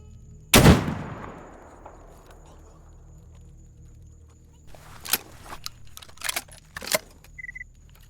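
A single loud, close gunshot in the game S.T.A.L.K.E.R. GAMMA cracks out and rings away in a long fading tail, followed a few seconds later by scattered quieter clicks and handling noises.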